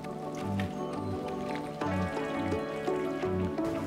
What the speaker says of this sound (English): Now we're adding in the cooked chicken.